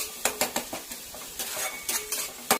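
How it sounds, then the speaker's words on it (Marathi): A utensil stirs and sautés spices with garlic in a pan, giving close, repeated scraping and clinking strokes over a light sizzle, with no talking. "हे सगळं मसाले टाकून मस्त परतून घ्यायचं आपल्याला सगळं मिश्रण एकजीव करायचं आहे"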